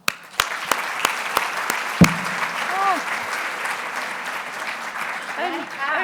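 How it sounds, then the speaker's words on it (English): An audience at a workplace talk in Athens bursts into warm applause to welcome the speaker. It begins with a few scattered claps, then becomes sustained clapping, and a voice briefly rises over it near the end. "So, with a very warm applause, let's all please welcome Gina London."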